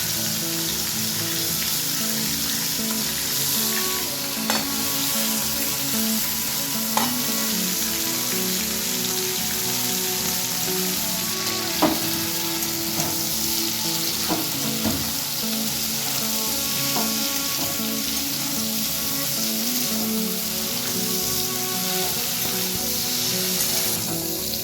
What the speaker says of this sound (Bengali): এবার আলু কপিটা একসাথে ভেজে নেব।